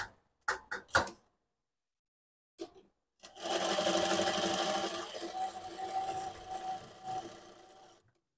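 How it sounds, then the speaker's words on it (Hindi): Sewing machine stitching a single-strip neckline with Anchor thread: a few sharp mechanical clicks and knocks, then a steady close whirring hum of rapid stitching lasting several seconds before stopping. "तो यहाँ पे हम इस तरीके से सिलाई लगाएंगे।"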